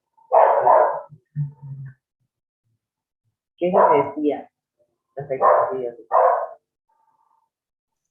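A dog barks faintly in the background, a few short yips under someone speaking Spanish during an online public health class.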